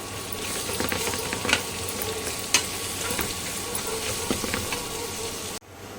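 Masala with turmeric powder cooks in a pan for a shellfish curry, giving a busy, steady sizzle with scattered stirring clicks and scrapes, before the sound cuts abruptly near the end.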